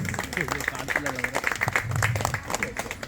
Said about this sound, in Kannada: ಚಪ್ಪಾಳೆ ಬನ್ನಿ ಜೋರಾದ ಚಪ್ಪಾಳೆ ಬನ್ನಿ